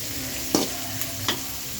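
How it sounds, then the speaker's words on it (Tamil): Onions being stirred in hot oil in a pan for a fish curry, a steady low sizzle with two distinct scraping clicks of the spoon against the vessel, close and fairly quiet with no talking. "வெங்காயத்தை நல்லா கலரி விட்டுக்கலாம் நல்லா வதங்கட்டும் கொஞ்சம் பொன்னிறமாக வதங்கணும்"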